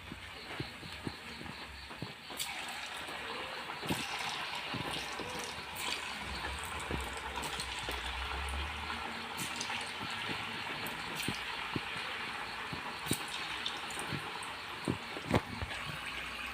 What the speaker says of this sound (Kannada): ಈಗ ಎಣ್ಣೆ ಕಾದಿದೆ, ಈಗ ಕೋಡ್ಬಳೆ ಹಾಕ್ಕೊಳ್ಳೋಣ ಮಾಡಿದಂಥ